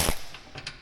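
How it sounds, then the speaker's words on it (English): A thunder ratchet gives a few sharp, rattling clicks: one loud burst, then two or three quicker, fainter snaps close by. "Thunder. That's a thunder ratchet."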